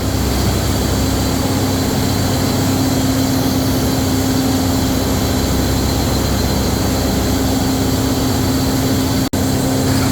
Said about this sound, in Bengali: এটা হলো একটি ছোট জেনারেটর আর তার দুই পাশে দুটি বড় জেনারেটর আছে